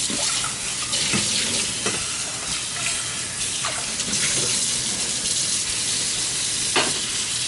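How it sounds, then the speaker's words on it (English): Steady running tap water splashing continuously into a sink over boiled edamame, with occasional clunks and knocks of the pods being rinsed, alone with no talking. "this time, cool it down with water"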